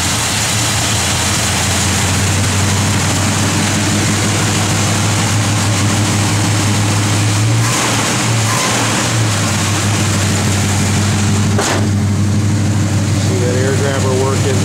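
A 1971 Plymouth Road Runner engine runs steadily with a deep, continuous low rumble close by, one brief sharper blip partway through, wind or outdoor noise faintly around it.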